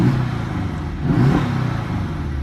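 A Porsche 718 Boxster's 2.5 engine gives a couple of short revving blips, close and moderately loud, with a low, gruff tone rising briefly over idle.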